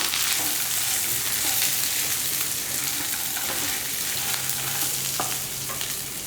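Peeled ridge gourd and coriander stems fry in a pan with a loud, continuous sizzle, broken by occasional stirring scrapes and taps.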